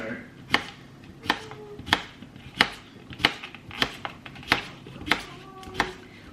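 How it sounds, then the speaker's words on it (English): Vegetables being chopped on a board for a vegan weeknight dinner: about ten crisp knife strikes land at a slow, even pace, close and distinct, with faint background sounds between them. "While I chop this"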